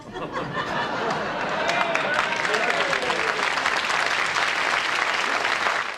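A crowd claps steadily for several seconds, dense and sustained, with some laughter and chatter mixed in.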